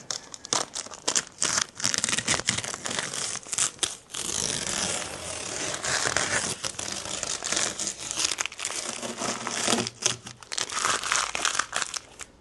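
Masking tape crackling and tearing as it is peeled off a freshly repainted Land Rover Defender rear crossmember, loud close crinkling in bursts with brief pauses, no talk.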